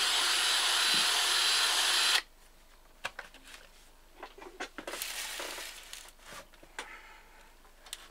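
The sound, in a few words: electric drill turning engine valve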